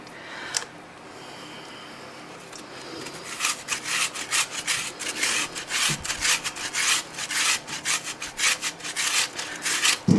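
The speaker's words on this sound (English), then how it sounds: "It's hard grating with a camera in between your arms." Raw potatoes are rubbed against a hand grater for hash browns, making a run of close, rhythmic rasping strokes that speed up into a quick scraping pattern.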